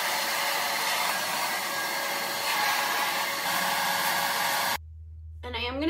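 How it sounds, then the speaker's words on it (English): A handheld blow dryer roars steadily up close while drying naturally curly hair, then cuts off abruptly near the end, followed by a low hum and a voice starting to speak. "so let's hit it with a blow dryer"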